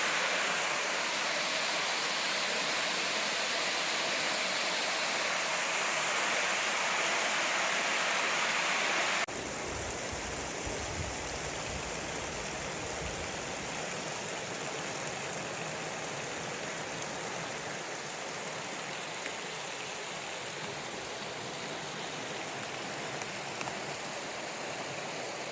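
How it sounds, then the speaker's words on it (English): Waterfall on the North Umpqua Trail pouring steadily into the North Umpqua River, a dense continuous broadband rush, loud and close, with a brief shift in tone partway through but no voices. "it's a nice waterfall going down into the North Umpqua River."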